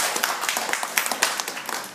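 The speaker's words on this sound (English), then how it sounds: "could you give them a big clap?" Classroom of pupils applauding a group of classmates, a brisk burst of close, uneven hand claps at a steady moderate volume for about two seconds.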